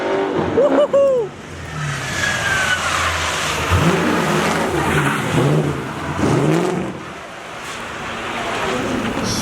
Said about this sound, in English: Straight up around, solid drift around this section.